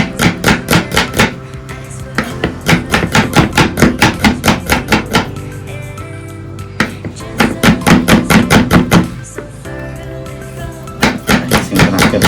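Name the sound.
slicing garlic with a knife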